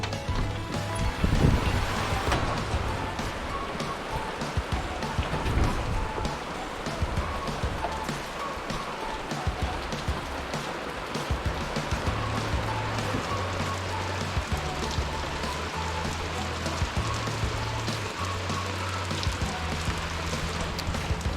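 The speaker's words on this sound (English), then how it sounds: "We definitely needed the rain though." Steady rain patters on car windows and roof nearby, a constant broadband hiss with scattered drops and a low rumble underneath, continuing throughout.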